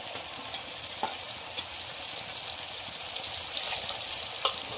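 Vegetables for veg biryani, including chilli, cauliflower and peas, being stirred in a hot pan, giving a steady soft sizzle with light scraping strokes and a brief louder hiss near the end.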